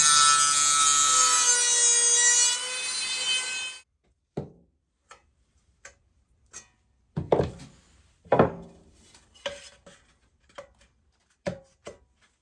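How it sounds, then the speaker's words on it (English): Wood for a tin can banjo is cut to take a pie pan: a few seconds of loud continuous power-tool whine, then silence broken by scattered knocks, scrapes and short rasping strokes nearby. "I am going to cut the hole out for the pie pan"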